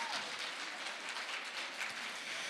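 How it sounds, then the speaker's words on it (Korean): Audience applause opens a geopark interpretation contest at a festival, a steady broadband wash of many hands clapping together throughout, fairly faint and even with no clear pauses. "여러분 박수로 다 함께 경연대회를 시작해 보도록 하겠습니다."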